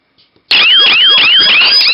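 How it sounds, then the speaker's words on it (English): An alarm system siren switching on abruptly after a couple of faint clicks, a loud, close, warbling electronic wail with rapidly repeating downward sweeps that continues steadily. "the siren will remain on until the LED stops blinking"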